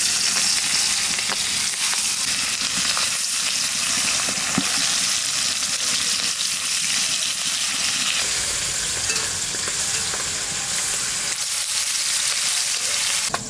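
Fish rubbed with salt and turmeric frying lightly in hot oil: a loud, steady, close sizzle that keeps an even hiss throughout, with occasional faint stirring scrapes and no voices.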